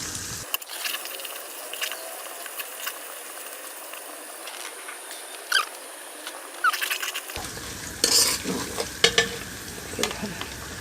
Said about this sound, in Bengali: বাদামটা আর পেঁয়াজটা আমরা ভালো করে একটু ভেজে নেব